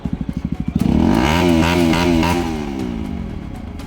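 A rowdy biker's motorcycle, out during Eid celebrations, thumps loudly and close at idle, then the throttle opens into a sustained rising rev that slowly fades back down.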